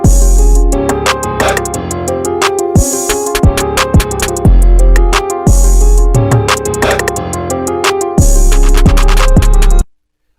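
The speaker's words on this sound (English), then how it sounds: "let's play our mix back real quick one more time without the compressor engaged." Uncompressed playback of a studio music mix with punchy kick drums and keys, loud and full with a steady repeating beat, running about ten seconds before cutting to silence.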